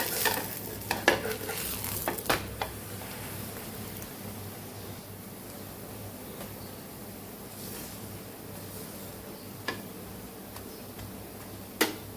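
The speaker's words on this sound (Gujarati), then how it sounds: "બે સાઈડ સરસ અલટ પલટ કરી અને શેકી લેવાનું છે" Paratha roasting with ghee on a hot pan, a quiet steady sizzle with a few sharp clicks and taps of a spatula early and late as it is flipped, no voices.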